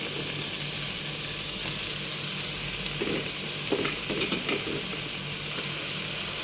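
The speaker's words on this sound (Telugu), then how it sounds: "తోటకూర వేసుకుని చక్కగా ఫ్రై చేసుకోవాలి." Amaranth leaves fry in a pan with a steady, moderate sizzle, broken midway by a few clinks and scrapes of a spoon stirring against the metal, close by and without talk.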